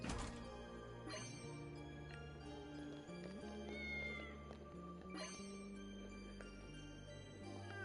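A cat meows in the video game Fantasian Neo Dimensions, heard over a continuous, dense layer of game music and effects with sustained tones throughout.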